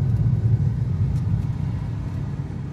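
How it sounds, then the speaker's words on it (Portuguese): A car overtaking on a Brazilian highway gives off a steady, close low engine rumble and road noise, with no talking. "Vamos fazer uma ultrapassagem de leve."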